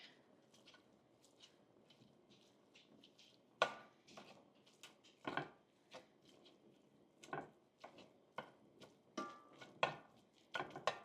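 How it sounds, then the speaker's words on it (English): Sausage cooks in a pan over medium-high heat while a small tool breaks it apart, producing a steady run of soft scraping knocks and taps against the pan, close and fairly quiet. "I'm just gonna use this little tool here to break everything up"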